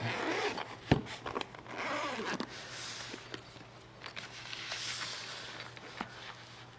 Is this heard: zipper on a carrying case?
yes